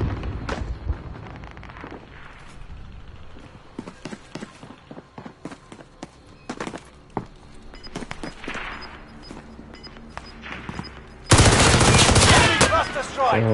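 Gunfire in the video game Call of Duty Warzone: repeated sharp shots and bursts spaced irregularly across the stretch, ending in a loud continuous blast of noise, with a player's voice heard in places.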